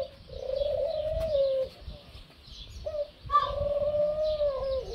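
Low, soft pigeon coos rolling in two drawn-out bursts with a short pause between, close by, over a faint background murmur.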